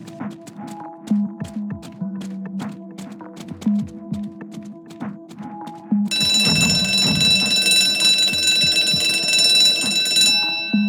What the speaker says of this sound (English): The fire alarm is pure genius.